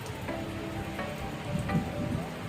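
Steady rain falls at night over a riverside spot where someone fishes for Mekong giant catfish, a soft continuous patter with slightly louder drops near the end and no talk.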